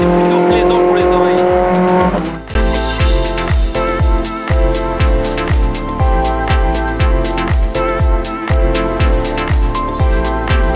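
Mygale Gen 1 formula race cars scream past in a fast pack, high-revving engines shifting rapidly through gears with repeated rhythmic upshifts, loud and close, continuous for several seconds.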